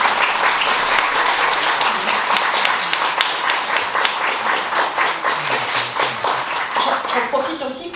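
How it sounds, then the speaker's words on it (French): An audience applauds the morning's speakers at a family day for French-speaking families affected by SMA in Lille. The clapping is full and sustained, thins slightly toward the end, and a voice can be heard faintly beneath it. "je voulais quand même qu'on applaudisse tous les intervenants qu'on a eus ce matin."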